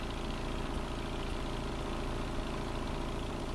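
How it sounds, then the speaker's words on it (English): A gasoline engine drives a pump and auger on a street-repair rig, running at a steady idle with a dense, even mechanical drone and no variation or voices. "Both the pump and auger are powered by a gasoline engine."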